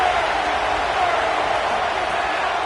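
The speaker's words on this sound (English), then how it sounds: "Listen to this crowd just shaking the girders of this place" Football stadium crowd roaring in a steady, dense wash of noise that holds loud and even throughout, with no clear breaks or individual voices standing out.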